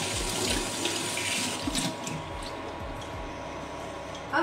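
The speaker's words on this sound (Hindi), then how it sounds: "मैं हैंड वॉश कर लेती हूँ।" Hands are washed under a running kitchen tap, with a steady, soft splash of water and occasional squishing as they rub together in the sink.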